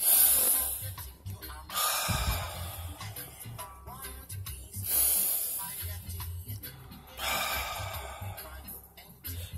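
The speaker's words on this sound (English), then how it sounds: "they were teaching me to breathe in there, a certain type of breathing" Slow, deliberate breaths taught as a particular breathing exercise, with three long hissing exhalations spaced a few seconds apart, close and fairly loud, separated by quieter inhalations and soft throaty sounds.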